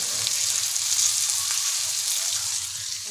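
Bombay duck (bombil) fish fry in a pan in a home kitchen, giving a steady, dense sizzle that holds at an even level throughout, close and unbroken, with no voices.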